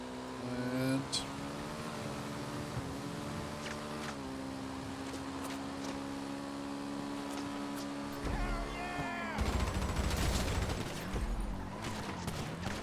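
Bursts of gunfire erupt in the video game Satisfactory, loud rapid shots clustered near the end over a steady mechanical hum, with a person talking.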